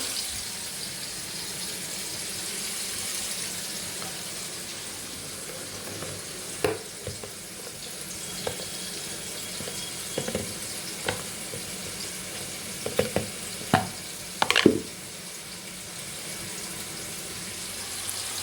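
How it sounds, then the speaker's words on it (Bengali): Prawns fry in a pan with a continuous, close sizzle and hiss, punctuated by a few louder clanks and scrapes of a utensil stirring them toward the end. "আর এখানে চিংড়ি মাছগুলো ভেজে রেখে এরপরে দেবো মশলা, হলুদ গুঁড়ো,"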